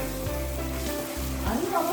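Tamarind puliyogare paste frying in oil over a medium flame for a temple-style preparation, a steady close sizzle with low stove hum and faint stirring scrapes.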